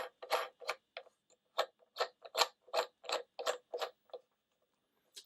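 Hard plastic desk clamp of a CCCEI fast-charging power strip being opened and adjusted, giving a run of crisp mechanical clicks and ratchety taps in uneven bursts, close and fairly quiet, with no talking.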